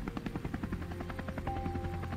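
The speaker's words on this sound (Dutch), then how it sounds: "De helikopter stijgt op en laat ons beduust achter." A helicopter lifts off close by after dropping a passenger near a palace. Its rotor chops in a fast, steady rhythm over a constant engine whine, loud and alone with no voices.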